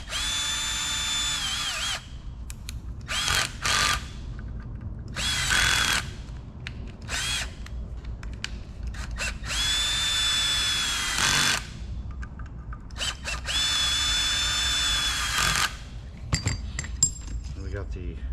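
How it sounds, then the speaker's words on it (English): A power driver spins screws into a 6.0 diesel oil cooler in several loud whirring bursts of a few seconds each, separated by pauses with metallic clinks and handling noise, up close. "So we're going to cheat on these and use the driver."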